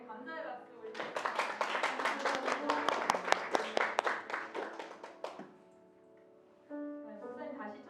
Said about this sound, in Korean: 우리 목사님께 감사의 박수 올리겠습니다